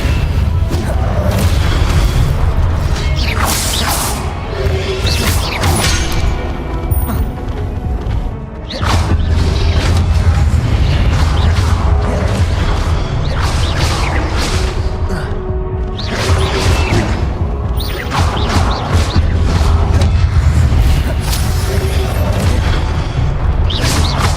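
Fire spell casting in Hogwarts Legacy, with loud booming bursts, whooshes and crashing impacts repeating in waves alongside rumbling effects.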